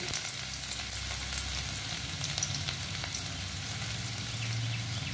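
Chopped onions and black cumin seeds fry in hot oil with a dense, steady crackling sizzle, close and continuous throughout.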